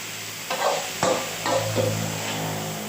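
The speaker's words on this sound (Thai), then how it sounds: "ผัดแป๊บเดียวขึ้นเลยครับ" Chinese kale and crispy pork are stir-fried in a pan, with a steady sizzle broken by about four sharp scraping tosses of the spatula spaced roughly half a second apart, close and alone.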